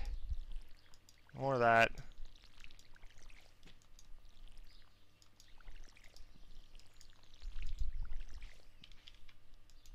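A short watering-can pour on crops in the Stardew Valley farming game, a brief splashy burst early on, with someone talking quietly over soft background game music.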